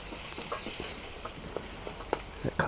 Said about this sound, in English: Next up, a good dollop of tomato puree. Let's mix that up.